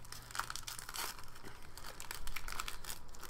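A Pokemon TCG Guardians Rising booster pack being torn open by hand: continuous close crinkling and tearing of the foil wrapper, fairly quiet.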